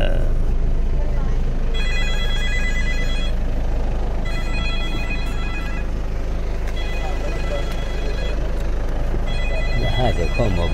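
A mobile phone rings from inside someone's pocket in a village, its ringtone repeating in three steady bursts over constant outdoor background noise, with people talking nearby.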